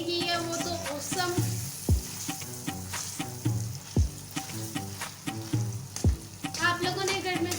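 Carrots cooking in desi ghee for halwa are stirred in a pan, giving soft sizzling under a thick musical background, with three deep thumps roughly every two seconds.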